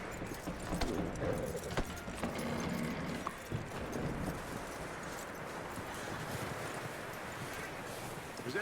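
Horse hooves clip-clop in Red Dead Redemption 2, a steady walking rhythm set against a busy, noisy game ambience with faint wind, heard alone with no speech.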